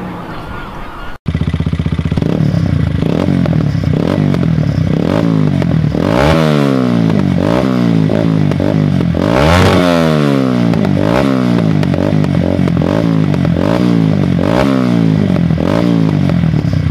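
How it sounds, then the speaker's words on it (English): A motorcycle leaving a bike show revs hard and repeatedly, engine pitch sweeping up and down in rapid blips. It sits close and loud, with a brief silence before the revving begins. "And now I'm going to do some revving."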